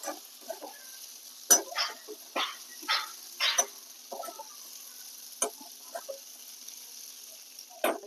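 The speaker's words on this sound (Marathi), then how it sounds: "एक दोन मिनिट आपण या तुपावर बटाटा चांगला परतून घेऊया" Boiled potato pieces sauté in ghee with green chilies and salt in a pan, giving a soft, steady sizzle broken by scattered clinks and scrapes of stirring, fairly quiet and close.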